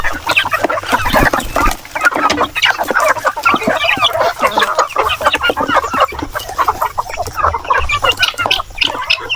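Native chickens clucking while feeding, a dense, continuous chorus of many close clucks and pecking sounds, loud and busy throughout with no talk.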